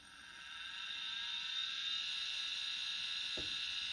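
A reassembled hard drive spins up and runs steadily during a test, giving a close, even high whine that swells over the first second and holds, with one brief click near the end.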